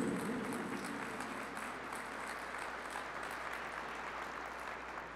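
Sustained applause from a church congregation, dense and steady for the whole stretch at moderate loudness, with no one speaking over it.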